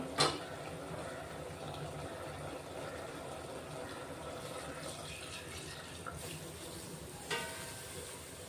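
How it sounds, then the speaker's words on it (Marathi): Hot water pours into a homemade-masala village-style mutton curry simmering on a gas stove, a steady close watery rush and bubbling with a sharp clank near the start and another near the end. "ते गरम पाणी ओतून घेऊ."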